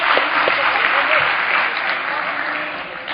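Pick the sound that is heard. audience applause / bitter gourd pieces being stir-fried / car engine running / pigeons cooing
audience applause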